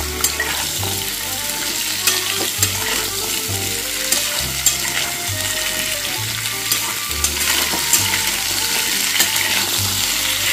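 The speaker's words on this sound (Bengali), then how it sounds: "এবারে এর মধ্যে আমি দিয়ে দিচ্ছি কেটে রাখা কুমড়ো আর আলুটা। দিয়ে ভালোভাবে এটা ফ্রাই করে নিতে হবে।" Cut pumpkin and potato fry in a pan for a vegetarian chana dal dish, a loud, steady sizzle with rhythmic scraping strokes of a spatula stirring every second or so, close and without speech.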